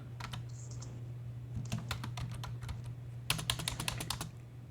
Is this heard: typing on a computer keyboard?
yes